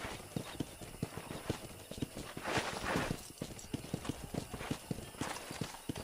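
Horse hooves in Red Dead Redemption clip-clop in a steady walking rhythm, close and clear, with a brief swell of rushing noise partway through.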